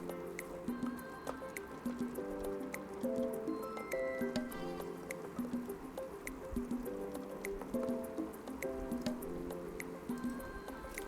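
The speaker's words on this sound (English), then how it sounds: "use the back of your spoon to mash the tomatoes" Cooked tomatoes in a pot are mashed with the back of a spoon in repeated soft, wet squishes at a steady beat, heard beneath background music.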